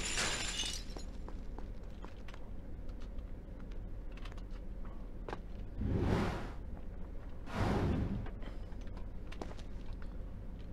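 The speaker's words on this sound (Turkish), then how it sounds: "O şey kırılıyor." Something breaks in the video game Prince of Persia: The Two Thrones, with a sharp crash at the start followed by two louder crumbling bursts a couple of seconds apart over a continuous game backdrop.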